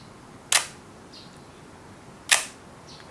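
A Konica Autorex film camera shutter set to bulb mode gives two sharp, close mechanical clicks, one as it opens and one as it closes about two seconds later, in a quiet room.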